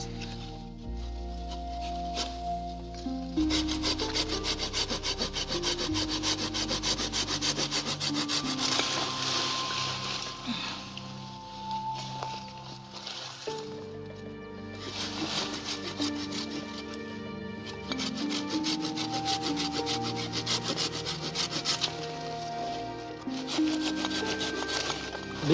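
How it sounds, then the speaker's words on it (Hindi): Hand saw cutting through thick guava tree branches, with a long run of steady rhythmic back-and-forth rasping strokes on wood, close and continuous with only brief pauses. "जो ज्यादा मोटे हैं उनके लिए मुझे लगता है आरी की जरूरत पड़ेगी"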